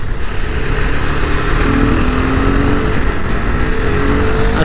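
A Royal Enfield Interceptor 650 and a KTM RC390 rev up side by side for a drag race, steady loud engine roar with rising pitch as they accelerate, close and alone.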